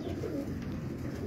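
Pigeons in a rooftop loft coo softly, a low murmuring call heard faintly and close over quiet background.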